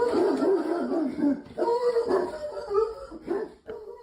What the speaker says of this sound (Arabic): إنه كلب شرطة محترف